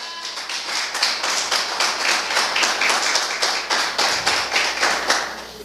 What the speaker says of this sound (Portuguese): Se eu fosse você, aplaudir o Senhor nessa hora.